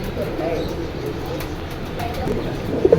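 Pigeons for sale at a market coo softly in a few low bursts, set against faint traffic and background murmur.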